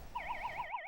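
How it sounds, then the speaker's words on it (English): A warbling electronic siren sounds alone for about a second at a high school quiz bowl match, marking the end of the first half, rising and falling rapidly in a steady wobble before cutting off. "That siren does denote the end of our first half"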